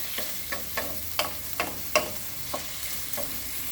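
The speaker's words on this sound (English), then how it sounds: "I'm gonna just let it cook for 5 minutes so that the sausage will be well cooked" Sausage sizzles steadily in a pan, with onion, garlic and ginger cooking alongside, broken by regular scraping strokes of a utensil stirring every half second or so, close and fairly loud.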